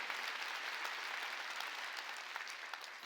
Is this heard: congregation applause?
yes